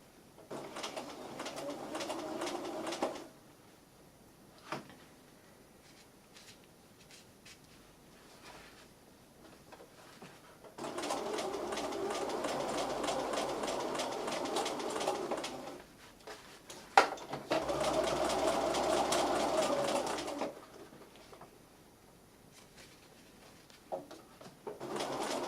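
A sewing machine back-stitches through several layers of fabric in three separate bursts of steady motor hum and needle chatter, close and moderate, with quiet pauses and small clicks between them.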